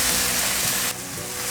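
Red shimeji mushrooms dropped into a 28 cm frying pan with softened tomato, a brief, loud, hissing sizzle that stays steady and close.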